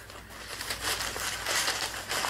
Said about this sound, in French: je suis en train de couper le sac